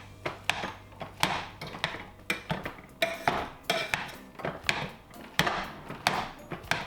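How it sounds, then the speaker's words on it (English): Drained potatoes being broken up with a masher in a pot, giving a run of repeated soft thuds and scraping clatters against the pot, close and fairly quiet, with no talking. "Using my masher, I break up the big chunks."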